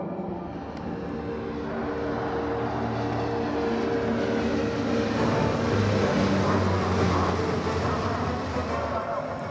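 A CN-235 patrol aircraft flies during a navy search and rescue operation at sea, a steady droning engine roar with tonal hum that swells slightly midway and holds loud throughout.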